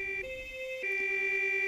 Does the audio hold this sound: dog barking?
no